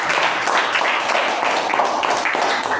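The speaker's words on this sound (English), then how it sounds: "Let's give a round of applause." Steady, dense audience applause fills a Toastmasters club meeting, a loud continuous wash of many hands clapping with no clear pauses.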